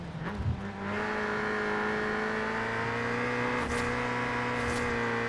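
A Toyota AE86 engine in Forza Horizon 4 holds a steady, buzzing high-rev tone at full throttle through a corner, loud and continuous after a brief rougher start.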